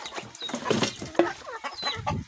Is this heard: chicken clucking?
yes